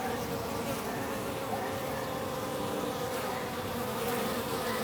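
A bee buzzes steadily and close by near flowers as it gathers pollen, a continuous insect drone with no speech over it.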